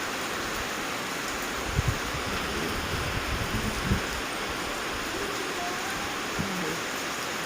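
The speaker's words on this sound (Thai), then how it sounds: "ฝนก็สาดเข้ามานะคะ เพราะว่าเราไม่มีกันสาดเนาะ" Heavy rain pouring steadily during a storm, a dense, constant hiss of water with a few splashing thuds close by as it blows into an open house without an awning.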